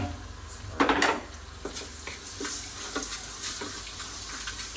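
Oil sizzling in a pan for Thai stir-fried noodles, with a burst of crackling near the start, then a steady low hiss with occasional spatula scrapes and clinks, close and moderately loud.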